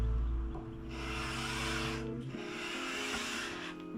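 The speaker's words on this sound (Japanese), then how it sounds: "指板 R のサンディングブロックに紙やすりを貼り付け削っていきます。" Sandpaper on a radius sanding block working the uneven fingerboard of a vintage Japanese guitar: close, continuous scraping strokes of rasping noise over a low steady hum.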